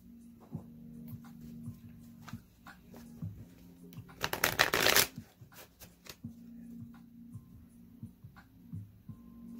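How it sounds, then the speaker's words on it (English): Tarot cards riffle-shuffled in a brisk, close burst of about a second, flanked by soft scattered taps and card handling against a low steady hum. "This came out earlier in the cards that I was shuffling through."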